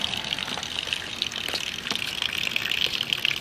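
Rainwater running and dripping into a street sewer on a rainy day, a steady close hiss of gushing water with scattered sharper drips and splashes throughout, no voices.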